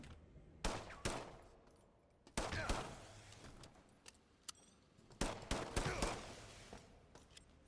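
Automated turret gunfire in the 2023 System Shock video game: several rapid bursts of shots, each a sharp cluster, separated by short gaps of quieter background.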